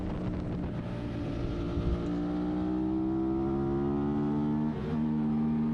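Yamaha R6 racing motorcycle engine revving hard through corners at a summer night race, a loud, steady high-pitched whine whose pitch climbs smoothly, briefly dips, then rises again.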